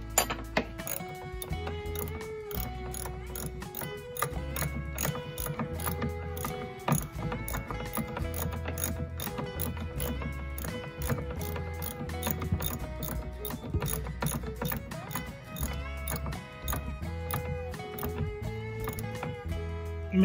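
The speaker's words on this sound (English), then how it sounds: "I went and I found a ratchet. I just wanna get this on there a little quicker." Ratchet wrench tightening bolts on a SeaStar hydraulic helm steering ram during a seal replacement, giving a rapid, steady run of close metallic clicks that carries on throughout without talk, over a low rhythmic background.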